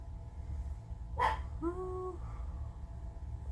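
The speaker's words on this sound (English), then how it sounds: "My dog's in this video, you guys." Dog indoors giving a brief sharp yelp followed by a short rising whine, close by over a low room hum.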